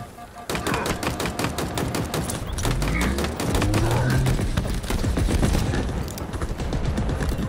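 Sustained automatic gunfire from a Halo Infinite firefight, dense rapid bursts running almost without pause, loud and close, with booming low impacts and faint game voices mixed in.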